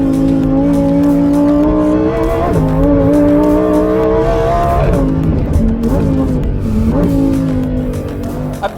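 A Lamborghini Huracán STO is driven hard on a race track, its engine loud and close, revving up in rising steps with sharp shifts and a brief dip before climbing again, with tire noise underneath.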